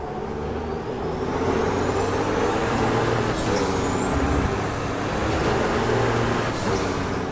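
Racing truck engine in Formula Truck 2013, droning steadily and loud through the whole stretch with a continuous low rumble, rising whine and faint hissing bursts, as a high-torque truck accelerates on track.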